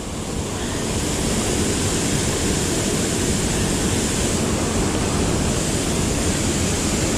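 Rushing water of a wild trout stream's waterfall, a steady dense broadband roar that stays loud and unbroken throughout, with no voices.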